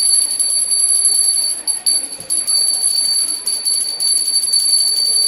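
A small bell rings for a pet dog, high bright tones jingling repeatedly and steadily at close range over quiet background noise.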